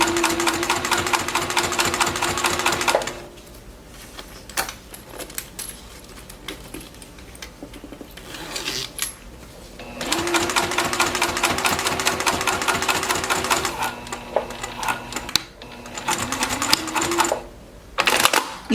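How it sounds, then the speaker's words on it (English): A sewing machine top-stitches fabric for a travel jewelry organizer, loud rapid mechanical whirring in long bursts separated by quieter pauses with small clicks and handling noises. "Okay, so let's go ahead and top stitch it now."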